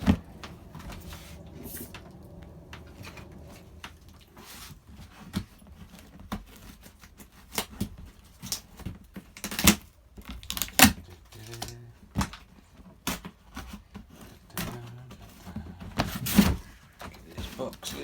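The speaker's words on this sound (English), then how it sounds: "Get this box lid off." Cardboard box of an FTX Outback 3 PASO being opened, with intermittent scraping, tapping and rustling of the lid and packaging, close and uneven, and soft voice sounds in the background.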